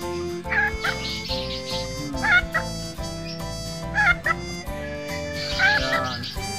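A Serama bantam hen cackles after laying her fourth egg, giving loud, close bursts of squawking calls about every one and a half seconds, with a low background hum.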